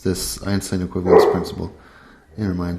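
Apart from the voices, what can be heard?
dog barking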